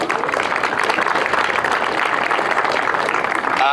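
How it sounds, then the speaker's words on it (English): A crowd applauds steadily at a junior football grand final awards presentation for under-16 girls, a dense, loud wash of many hands clapping without pause. "So big round of applause to the YJFL."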